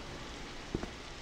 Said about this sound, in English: So it is raining outside.